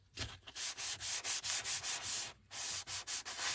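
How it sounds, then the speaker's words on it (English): Light hand sanding with 600 grit sandpaper on an M422 Mighty Mite vehicle part, a quick series of close, even back-and-forth rubbing strokes with one short pause. "we're going to give this thing a very light sanding. Now, this is a, what is this? 600 grit."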